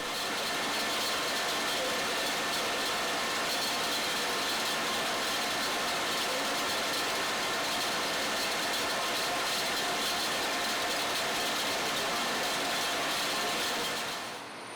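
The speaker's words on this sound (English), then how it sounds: "We are observing the function of a slip draft spinning frame" A slip draft jute spinning frame runs with a dense, continuous mechanical roar and rattle, loud and unchanging throughout before easing slightly at the very end.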